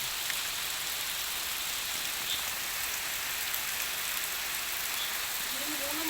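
Steady rain pours down during a wet spell in Kerala. It is an even, hissing patter on surfaces that continues without letup, close and fairly loud.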